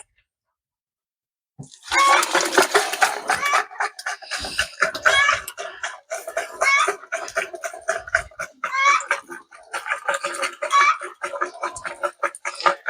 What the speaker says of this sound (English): Those hens that are raising sand, they do that when they're laying their egg a lot of times.